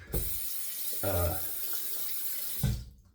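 Tap water runs into a sink while an aluminum safety razor is rinsed under it. The steady splashing flow is close, with a few louder gushes as the blade passes through, and it cuts off at the end.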